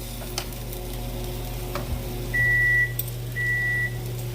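Fettuccine noodles being stirred in a pot on a home stove, with soft scraping and bubbling over a steady low hum, and two short electronic beeps partway through.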